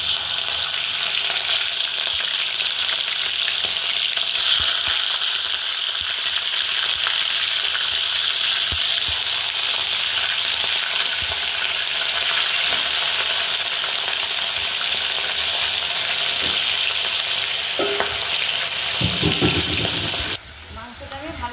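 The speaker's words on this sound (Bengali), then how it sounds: "মাংসটা আমি ভালো করে তেলে ভেজে দিচ্ছি" Half a kilo of chicken frying in oil in a pan, a loud continuous sizzle with occasional stirring scrapes, steady for about twenty seconds before briefly dropping off near the end.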